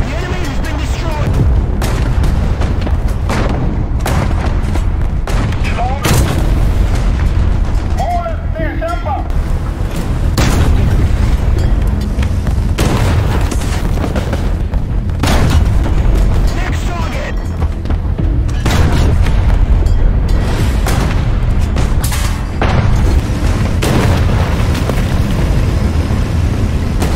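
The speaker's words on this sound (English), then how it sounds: "Smart to use the high explosive round" Tank high explosive rounds fire in the War Thunder video game, heavy booms repeating through dense continuous battle noise, with a voice commentating over them throughout.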